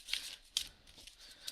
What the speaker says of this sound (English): So I'm going to shuffle off camera